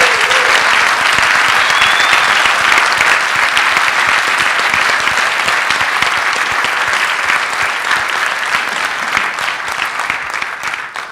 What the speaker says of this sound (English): have us give a round of applause for the people that put this event together, the organizers